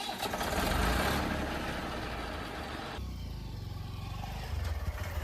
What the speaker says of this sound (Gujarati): હું બાઇક લઈ લઉં અને બાઇક લઈને આપણે જતા રહીએ પાછા